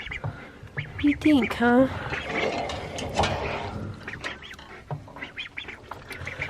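Baby ducks give several quick high peeps and quacks near the start, then a voice speaks softly over the shuffling of the little birds in their pen.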